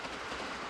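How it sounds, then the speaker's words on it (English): A train with yellow striped cars rumbles past in the visual novel Steins;Gate, a steady, muffled roar of rolling carriages that holds level and fills the whole moment. "Across the way, a train rumbles by."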